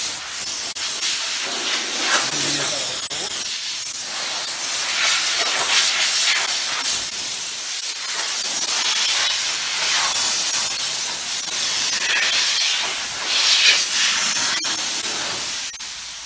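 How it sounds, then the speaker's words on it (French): Steam cleaner blowing a steady, loud hiss of steam across car bodywork, continuous for the whole stretch with slight surges as the nozzle moves. "vous passez la vapeur juste devant et vous faites rejet"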